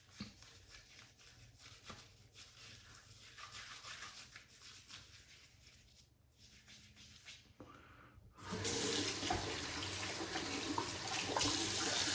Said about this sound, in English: Let's clean this brush out a bit.